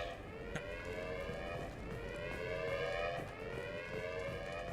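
A continuous electronic siren alarm in the video game Mass Effect 2 Legendary Edition blares with layered wavering tones, steady and sustained, with faint thuds and clicks underneath.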